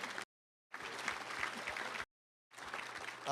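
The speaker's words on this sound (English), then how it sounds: "a round of applause for that." Audience applause at a Little Rock Touchdown Club luncheon, in short bursts of moderate clapping separated by abrupt silent gaps.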